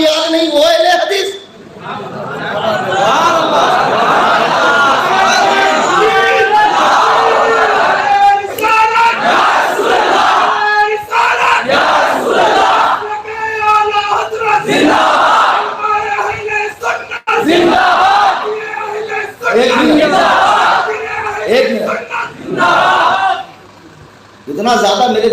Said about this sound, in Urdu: نعرے کی ضرورت کے وقت ہی لگائے, زیادہ نعرے نہ لگائے.